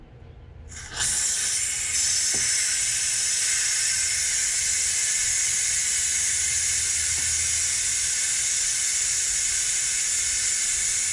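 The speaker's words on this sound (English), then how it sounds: "So I'm going to go ahead and release the steam." After a brief quiet, steam bursts from a pressure cooker holding chicken in a loud, steady hiss that keeps going without letting up.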